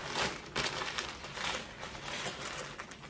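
Plastic crinkles and rustles in short, close bursts as a sandwich is wrapped up in a plastic bag, with no speech.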